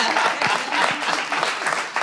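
Audience applause during a live talk-show broadcast, a short burst of fairly loud, dense clapping from a crowd.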